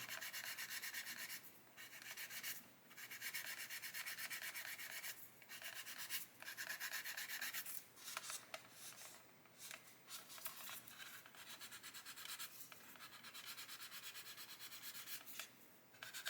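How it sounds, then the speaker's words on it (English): A sanding stick rubs back and forth across a hard plastic model surface coated with Mr. Surfacer, in quiet, repeated scratchy strokes with short pauses between passes; the sanding stick is clogged. "I think my sanding stick is getting quite clogged."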